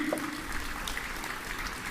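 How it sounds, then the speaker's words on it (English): An audience at a freshers' induction programme claps briefly, a steady wash of hands in a large hall heard from some distance. "Clap please"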